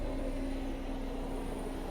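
A low, continuous hum of aircraft at a busy Mumbai airport, heard as a faint, even drone with a steady tonal whine underneath and no speech.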